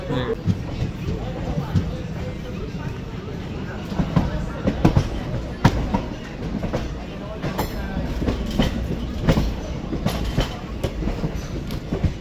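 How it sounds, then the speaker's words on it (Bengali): The Kanchanjunga Express, running with ICF coaches out of Bardhaman Junction, rolls along with a continuous rumbling clatter and rhythmic clickety-clack of wheels over rail joints, heard from inside the coach, with faint voices in the carriage. "ট্রেন ছাড়লো বর্ধমান জংশন স্টেশন।"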